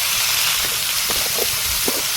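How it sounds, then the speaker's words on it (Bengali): Continuous hissing sizzle of pumpkin, bitter gourd, eggplant and sweet potato frying in a pan, steady and close, with a few faint soft knocks underneath. "দুই দিকে সবজি ভাজা হচ্ছে"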